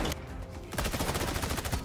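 Brief burst of rapid automatic gunfire in a multiplayer shooter game, a short lead-in shot followed by a dense, steady stream of rounds lasting about a second.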